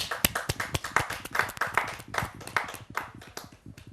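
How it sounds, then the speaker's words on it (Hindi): An audience at a Hindi poetry gathering (kavi sammelan) claps to welcome a poet onstage: crisp, close hand claps at a brisk, fairly even pace, with no talk over them. "जोरदार तालियों के साथ हम आमंत्रित कर रहे हैं"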